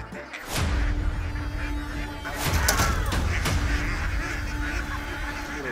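Hungry ducks in a cart quack and honk noisily in a dense, overlapping flock, close by, with a thump as the cart opens and the calls continuing throughout.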